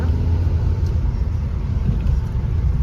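A car climbing the winding Dabhol ghat road on the way from Mumbai to Ratnagiri, heard from inside as a steady, loud low engine and road rumble throughout, with no talking.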